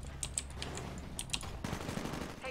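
Gunfire in the Titanfall video game: repeated rapid bursts of automatic fire crackle over a dense, steady background of game noise, with no speech.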